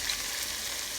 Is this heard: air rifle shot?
no